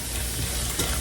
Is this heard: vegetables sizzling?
yes